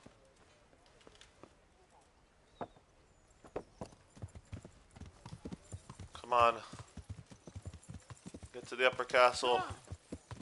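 In the Kingdom Come video game, a horse's hooves clip-clop in an uneven walking rhythm, growing louder with two heavier bursts, while someone talks over them.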